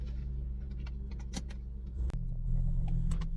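A Mercedes with a 7G-Tronic gearbox starts up: a few clicks and a whir, then a brief crank, and the engine catches into a steady low idle rumble, heard from nearby.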